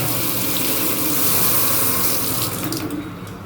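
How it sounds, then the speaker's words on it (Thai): Water runs steadily from a newly repaired household faucet into a sink, a close, continuous gushing stream that fades a little toward the end, with no talking. "เราเปิดน้ำเข้าก่อน อันนี้เปิดแล้วใช่ไหม"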